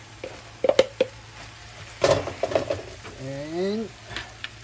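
Soy bean meat stirred and fried in a pan, with scattered scraping and clattering stirs over a faint sizzle. A short rising whine near the end sits over a low background hum.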